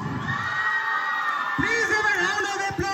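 A youth parliament audience cheers and whoops for a prize winner named best photographer, with loud shouting voices and crowd noise filling the short stretch.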